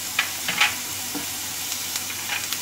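Turmeric and chili flakes sizzling in hot oil in a pan as they are stirred, a steady close frying hiss with a few soft scraping stirs and no talking.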